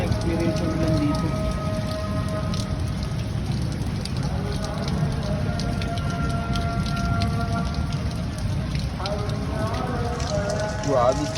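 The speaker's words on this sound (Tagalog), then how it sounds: "Hindi mo na-experience yung ulan dito." Heavy rain pours down hard and steadily, a dense close roar that never lets up, with people talking under it and a low rumble in the background.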